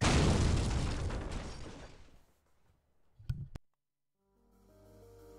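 Bomb explosion in a bomb-defusing video game: a loud, broad rumbling blast that fades over about two seconds, followed by a short sharp double crack and then quiet tonal game sounds.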